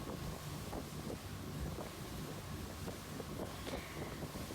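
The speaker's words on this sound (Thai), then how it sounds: "เรือก็เริ่มออกโตเร็วมากแล้วเนาะค่ะ" A boat speeds across open sea off the Finnish island of Kaunissaari, with steady rushing engine and hull noise and strong wind buffeting the microphone throughout.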